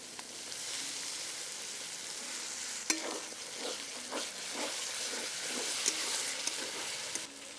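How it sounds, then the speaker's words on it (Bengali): Tomato paste frying in a pan for a Kadaknath chicken dish, giving a steady close sizzle with repeated scraping stir strokes through the middle and no talk. "এবারে দিয়ে দিচ্ছি টমেটো পেস্ট।"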